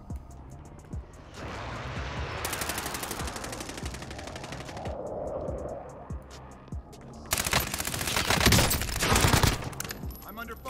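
Gunfire in a video game: repeated rapid bursts of automatic weapon fire, close and loud, with sharp crackling volleys and brief pauses, a louder sustained barrage near the end.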